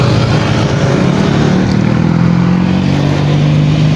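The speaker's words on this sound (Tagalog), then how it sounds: "So ito yung motor natin." A motorcycle engine runs steadily and loud at close range, a constant rumbling drone with a slight rise in pitch partway through, no voices over it.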